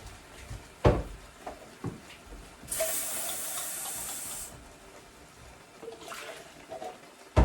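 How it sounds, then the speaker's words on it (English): Water from a kitchen tap pours into a cooking pot for about two seconds as a loud rushing hiss, between quieter clinks and handling noises, with no talking. "I'm going to fill this up with water and pop that in there."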